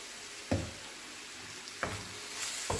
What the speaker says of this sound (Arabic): وغنصامر حتى يتشحر ليا الدجاج ديالي مزيان مع الثومه والملحه والزعتر